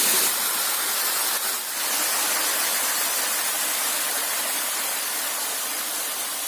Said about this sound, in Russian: Реально каскадный водопад.